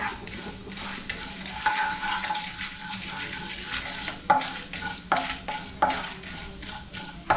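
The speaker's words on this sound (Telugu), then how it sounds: "శనగపప్పు కూడా మంచిగా వేగేంత వరకు ఇలా ఆయిల్లో ఫ్రై చేసుకోవాలి." Chana dal frying in oil over medium flame, a continuous close sizzle broken by repeated scraping stirs of a spatula against the pan.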